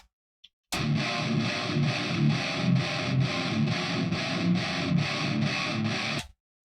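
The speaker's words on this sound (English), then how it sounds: "With, it sounds like this." Heavily distorted metal rhythm guitars chug in a tight, steady palm-muted pattern, processed through the stock Pro Tools 7-band EQ. The riff is loud and continuous for about six seconds, with no voice over it.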